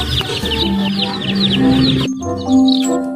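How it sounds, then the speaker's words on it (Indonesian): Chickens cluck and squawk in quick, close bursts, with a brief tonal chime layered in partway through. "Wow, ada ayam teman-teman."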